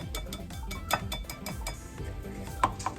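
A spoon folds chocolate into condensed milk in a bowl for walnut candy, giving repeated soft scraping strokes with a few light clinks against the bowl, close and steady.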